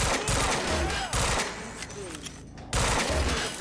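Rapid bursts of automatic gunfire in the shooter game Quantum Break, loud and dense, broken by short pauses between volleys, with a voice talking briefly underneath.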